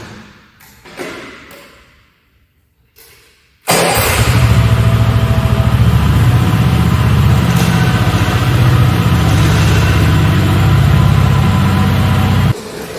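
A walk-behind cultivator engine starts after a few quiet seconds of faint handling sounds, then runs loud and steady with a low, rumbling chug for about nine seconds before cutting down abruptly.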